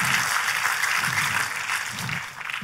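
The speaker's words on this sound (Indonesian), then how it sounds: "Oh, tepuk tangannya lebih dahsyat lagi" A church congregation claps steadily and energetically, a dense wash of applause that holds for a few seconds before easing slightly.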